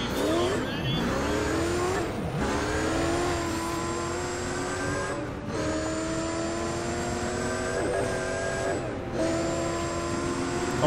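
Race cars roaring at full throttle in the Need for Speed ProStreet video game, a sustained high engine whine with rising gear sweeps and brief shift dips, a Toyota Supra among the field, with faint talk underneath.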